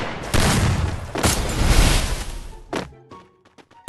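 Gunfire in a mobile shooter game, loud bursts of rapid shots and booming blasts packed together, then a pause and a few sharper separate cracks near the end.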